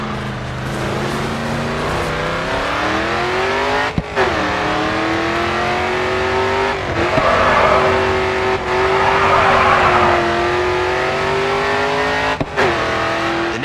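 In the racing game GRID 2, a race car's engine revs loudly and holds high through a long drift, pitch rising and falling with brief dips as the driver shifts and gets back on the gas.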